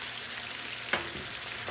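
Mojo pork tenderloin sears in a hot pan with a steady, close sizzle. A single sharp knock lands midway, and the frying hiss carries on evenly after it.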